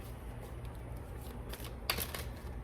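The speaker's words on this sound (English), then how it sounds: "Teaching myself a new way to shuffle, you guys." Soft riffling of playing cards being shuffled, with a brief sharper flutter near the end over a low, steady background hum.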